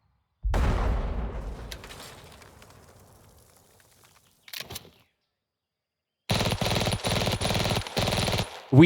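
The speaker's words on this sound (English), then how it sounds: "Soviets both send mortar runs and small arms fire our way" Gunfire and mortar fire in a WW2 Kursk battle video game: a heavy boom decaying slowly, a brief sharp crack, then a sustained rapid burst of automatic small-arms fire, loud and close.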